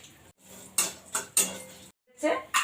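A kadai is set on the stove and oil added to fry lentil dumplings, producing several loud, close metallic clanks and scrapes separated by short silences.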